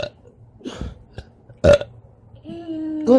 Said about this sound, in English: A tiny burp.